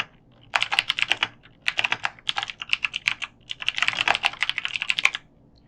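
A drawing name is typed on a computer keyboard in quick, close bursts of crisp key clicks separated by brief pauses.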